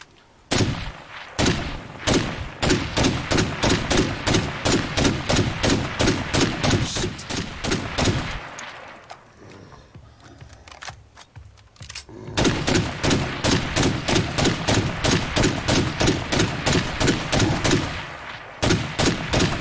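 A big scoped rifle in State of Decay 2 fires on a juggernaut zombie, loud close shots repeating in a steady rapid rhythm, pausing briefly mid-stretch before the volley resumes.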